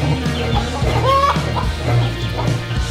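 Chickens cluck close by in short, uneven bursts, with a bit of background chatter and movement underneath.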